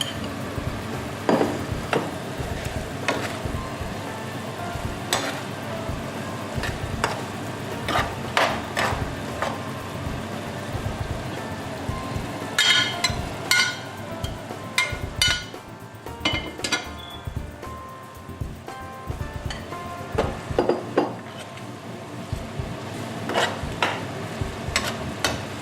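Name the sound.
gizzard and fried plantain stirred into pepper sauce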